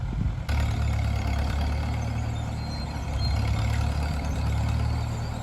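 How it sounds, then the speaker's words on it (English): An old Massey-Harris MH 30 tractor engine runs steadily at a low idle-like rumble, close and loud, with a worn throwout bearing condition and no speech over the constant drone. "That little old tractor there's got a good motor in it."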